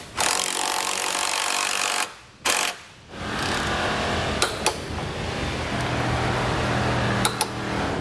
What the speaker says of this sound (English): We'll come back with an 11/16 socket. We'll tighten and then torque the hardware to the specification in the instructions.